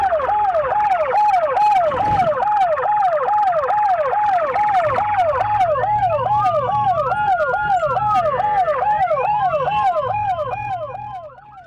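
An ambulance siren wails loudly and close for the whole stretch, its rapid rising-falling yelp repeating steadily before shifting to an overlapping second pattern, then fading slightly at the end.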